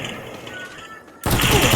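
A sniper shot rings out in the Free Fire battle royale game, a sudden loud burst after a second of quieter game ambience, with dense gunfire continuing to the end.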